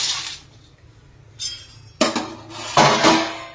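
A spatula stirs and turns ingredients dry-roasting in an iron pan over a low gas flame, producing intermittent metallic scrapes and clinks in several bursts, the louder ones near the end, with quieter gaps between.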